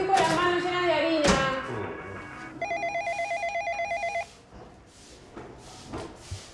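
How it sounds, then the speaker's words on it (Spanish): An old landline telephone rings in an Argentine film scene, a single burst of rapid trilling bell pulses lasting about a second and a half, after a clatter and some household noise, with no one speaking during the ring. "¡Teléfono!"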